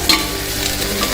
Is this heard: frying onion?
yes